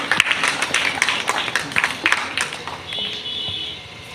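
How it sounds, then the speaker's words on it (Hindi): An audience at a religious discourse claps briefly, a burst of uneven hand claps that fades out after a few seconds. "ताली ठोकिए एक बार।"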